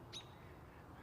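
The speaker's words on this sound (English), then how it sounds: "Is that a robin? Yeah, that's a robin." A robin calls once, a brief high chirp near the start over a steady outdoor background, perched high among hedges where robins and blackbirds nest.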